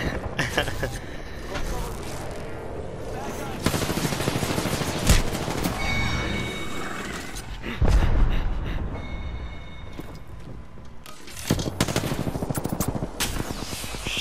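Sustained automatic gunfire and shots from the Apex Legends video game, loud and dense across several long bursts, mixed with other game effects while players talk over it.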